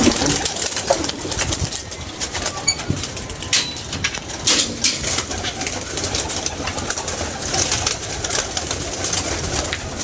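Pigeons cooing near a loft, soft repeated low coos among a busy outdoor background with occasional wing flutters.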